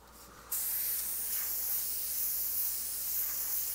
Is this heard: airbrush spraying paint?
yes